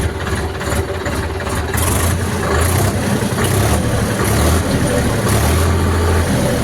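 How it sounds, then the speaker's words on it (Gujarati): An Indo Farm 50 horsepower tractor engine runs close by with a steady, rumbling idle that swells a little louder after the first couple of seconds. "અવાજ ચેક કરો ટ્રેક્ટરનો, મસ્ત, બહુ એકદમ મસ્ત અવાજ છે"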